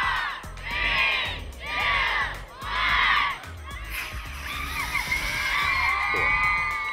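Elementary school children cheer and scream in rising waves at a rocket launch contest at the Mojave Air and Spaceport, a young crowd erupting in three bursts before a looser, continuing clamor.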